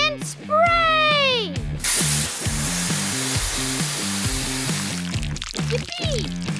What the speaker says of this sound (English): Let's use our water launchers and wash that candy away.